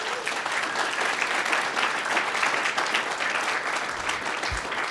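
A room of people applauding three Eagle Scouts at a Troop 50 Des Moines 100th anniversary celebration, sustained dense clapping that holds steady for several seconds.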